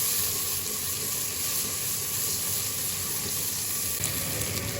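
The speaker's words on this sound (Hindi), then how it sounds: "ये प्याज और अदरक लहसुन का पेस्ट अच्छी तरह से फ्राई हो गया" Onions with ginger garlic paste fry in a pan, a steady close sizzle and crackle running throughout at even loudness, with occasional faint stirring scrapes and no talking.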